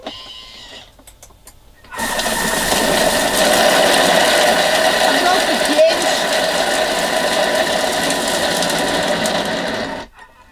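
A Thermomix runs steadily for about eight seconds, blending banana and butter with a loud, even motor whir and a faint mechanical rattle, starting and stopping abruptly.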